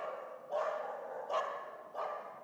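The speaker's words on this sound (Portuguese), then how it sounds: "Não cachorro," A dog barks three times in a row, spaced evenly and fairly close, with quiet gaps between each bark and no speech.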